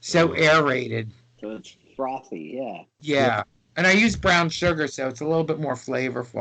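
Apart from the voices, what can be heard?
No everyday noises stand out.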